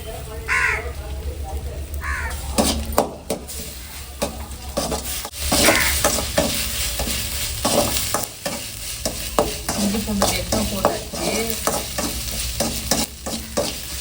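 Ginger garlic paste frying in a pan while a spoon scrapes and stirs it, giving loud clattering strokes over a sizzle, with crows cawing nearby and a voice speaking at times.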